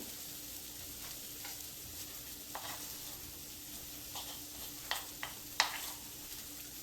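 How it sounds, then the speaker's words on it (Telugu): Curry leaves sizzling in oil with lightly fried onion for a chicken fry, a faint, low hiss with occasional quiet stirring scrapes and a few sharper clicks toward the end. "ఇప్పుడు నేను కర్రీ లీవ్స్ యాడ్ చేస్తున్నాను"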